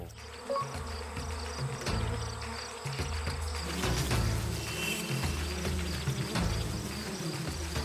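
Hornets or wasps buzz loudly and continuously up close, a dense droning hum with pulsing swells as they attack dark-coloured targets.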